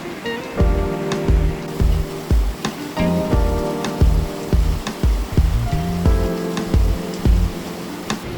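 Heavy rain pours down in a steady, loud wash, with irregular knocks and thumps close by running through it; no one speaks.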